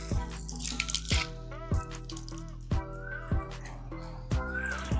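Water runs from an outdoor pipe in a village, with a steady flow and a regular series of knocks or drips, plus a low drone and faint chirps in the background.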